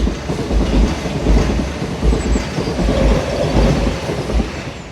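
A train rumbles along a track overhead in medieval Glasgow, a loud, continuous clattering roar with rhythmic wheel thumps throughout and no voices.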